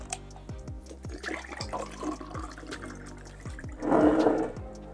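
Water being poured into a container for a hardness test, with trickling and gurgling liquid sounds and a louder filling burst near the end, heard close up without talk.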